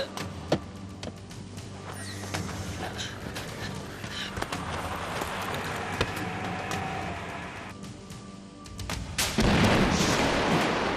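Something blows up in a loud, rumbling burst over dense background noise, with scattered sharp cracks throughout and a heavier surge near the end.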